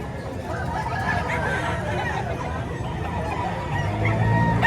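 A rooster calls amid the babble of a busy chicken market in Batangas, partly buried under steady crowd chatter and nearby voices.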